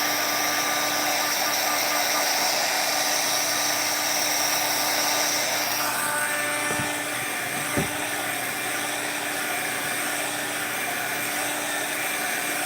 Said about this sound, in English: sanding through epoxy is a nightmare